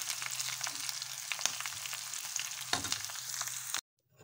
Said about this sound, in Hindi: तड़का हमने दाल में ऐड कर दिया।